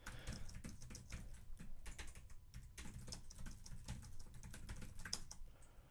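Steady rapid typing on a computer keyboard while entering terminal commands, a continuous run of close clicky keystrokes with no voices.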